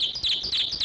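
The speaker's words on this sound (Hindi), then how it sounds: "ये एक ही चिड़िया जिसने आकर अपना घोंसला बनाकर रखा हुआ है, इसलिए पर मार रही है सर" Small bird chirping beside its nest indoors, a quick run of bright, high tweets repeated several times, close and fairly loud with no talking.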